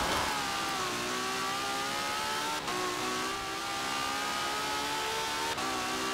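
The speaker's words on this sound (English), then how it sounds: "Yo, listen to that engine. It's so angry. It's just yelling." A 2017 Ferrari 812 Superfast engine in Forza Horizon 4 holds a loud, steady high-pitched wail with sustained revving and faint gear-shift dips, no talking over it.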